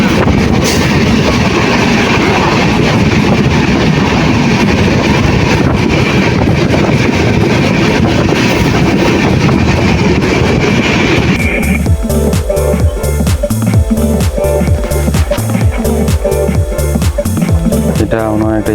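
A train runs along the rails on a regional line in northern Bangladesh, its steady loud rumble and wind noise filling the carriage, then shifting to a rhythmic clatter of wheels over rail joints partway through.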